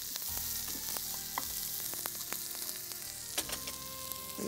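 Onions with a pinch of salt sautéing in a pan, with a continuous sizzle and recurring stirring clicks and scrapes of a spoon, close and moderately quiet, no speech.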